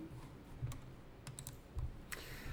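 Someone types on a computer keyboard while entering accounting records, a quiet, irregular patter of key clicks with a few firmer taps, close but low in level and without speech.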